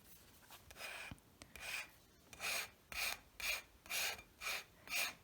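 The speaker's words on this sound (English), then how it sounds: "Take my paint scraper." A paint scraper drags across a journal page in repeated rasping strokes, about eight close, evenly spaced scrapes that grow stronger and more regular toward the end.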